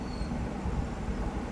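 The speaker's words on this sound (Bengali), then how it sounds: "আমাদের ট্রেন 13154 গৌড় এক্সপ্রেস তার নির্দিষ্ট সময় 9:30টার সময় মালদা টাউন স্টেশন ছেড়ে দিল।" Gour Express 13154 running after departing Malda Town, a steady dense rumble of the moving train heard from inside, continuous and unbroken with no voices.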